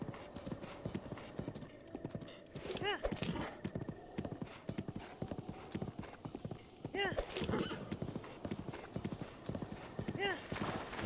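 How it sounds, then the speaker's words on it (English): A horse gallops in Zelda: Breath of the Wild, fast close clip-clop hoofbeats running continuously, broken by three loud whinnies spread across the stretch. "So you can see, our horse can move or run five times, gallop five times."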